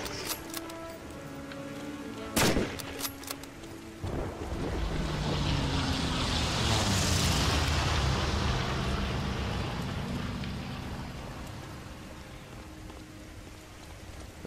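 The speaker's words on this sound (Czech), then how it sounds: "Protože prší." Steady rain pours down in the WWII shooter Medal of Honor: Allied Assault Spearhead, a broad hiss that swells in the middle and then eases, with a few sharp knocks near the start.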